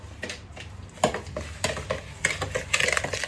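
A spoon stirs sugar into banana fritter batter in a bowl, giving irregular scraping and clinking strokes against the side, close and fairly loud, with no one talking.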